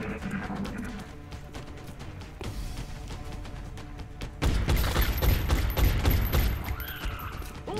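Gunfire in the XCOM: Enemy Within video game, a dense, loud volley of shots with booming impacts that begins partway through, after a stretch of quieter game sound.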